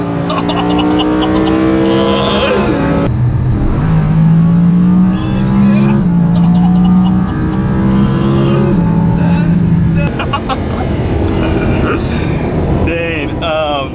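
A Lamborghini Huracan sports car engine blips and downshifts, then revs hard under acceleration, loud and close with shifting engine tones throughout while people talk over it.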